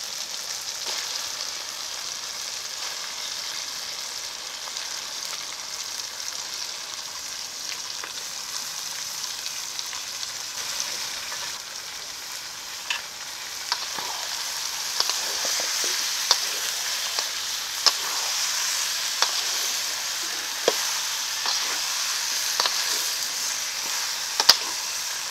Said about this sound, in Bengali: এখন এসবটার মাংসটা দিয়ে ভালো করে কষিয়ে নেবো